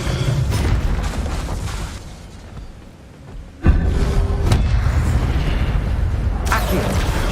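Incendio fire spell blasts in Hogwarts Legacy on PS5: loud booming bursts with a sharp thump midway, followed by sustained roaring fire noise, no talk.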